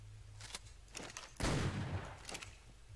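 Cluster HE shotgun rounds fire in the ARK video game, with several sharp gunshot bursts that split into crackling explosions. One heavier blast lands midway, and the rest are fainter pops with no talking over them.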